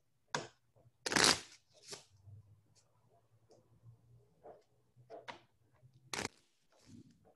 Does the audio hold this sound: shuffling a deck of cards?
yes